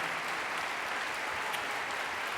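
An audience at a TV series festival closing ceremony gives steady, even applause, a dense wash of clapping heard from a distance throughout.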